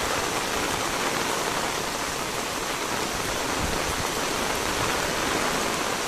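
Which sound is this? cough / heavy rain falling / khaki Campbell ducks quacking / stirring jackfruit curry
heavy rain falling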